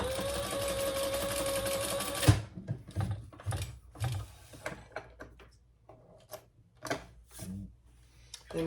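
Sewing machine basting a D-ring onto a sling crossbody bag, running in one steady loud burst for about two seconds, then stopping, followed by scattered soft handling clicks and rustles of fabric and hardware.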